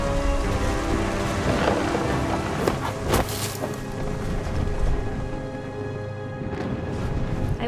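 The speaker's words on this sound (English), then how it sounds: "The thunder sounded much too close and full of angry power." Rain patters steadily during a thunderstorm in What Remains of Edith Finch, with sharp nearby thunder cracks around the middle and a rumbling swell, heard without talking.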